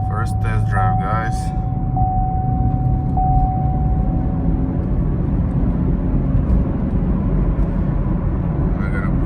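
A 2019 Chevrolet Camaro SS, a rebuilt wreck out on its first test drive, gives a steady engine and road drone heard from inside the cabin, with a brief chime-like tone near the start.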